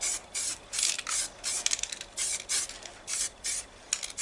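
Spray can of primer misting onto a small kit model piece: a series of short, rhythmic hissing bursts, about a dozen quick sprays with brief gaps between them, close and fairly loud.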